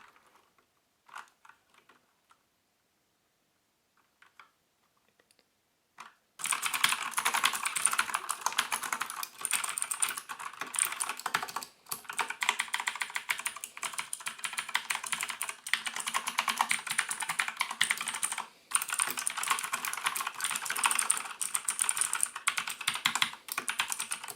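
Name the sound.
typing on GranVela MechanicalEagle Z-77 mechanical keyboard, blue switches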